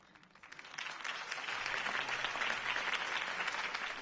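Crowd applause after a campaign speech in a PS4 video game swells in from quiet to a broad, steady roar of many hands clapping, sounding somewhat distant and fairly soft.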